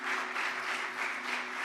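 Church congregation applauding, a steady dense patter of many hands clapping in a reverberant hall, moderately loud and continuous with no talk.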